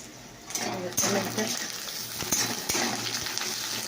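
Cumin and coriander powder frying in a pan while being stirred, a soft continuous sizzle with scraping spatula strokes and occasional clinks of metal on the pan.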